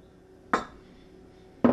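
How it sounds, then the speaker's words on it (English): Two eggs are tossed into a bowl of sugar, each landing with a short, sharp knock about a second apart, close and clear against a quiet background. "I have 4 eggs. I'm going to throw those in."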